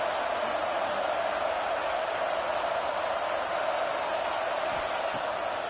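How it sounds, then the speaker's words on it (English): Football crowd at a stadium on Saban Field during a third-down play, a steady, dense roar that holds at an even level throughout with no distinct voices standing out. "The tide crowd rolling noise down onto Saban Field on third down."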